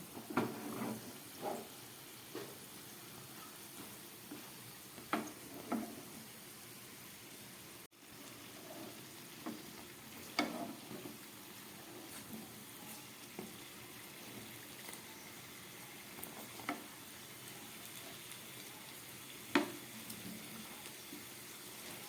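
Lavanga latika sweets fry gently in oil over a very low flame, giving a soft, steady sizzle with occasional faint pops and light clinks.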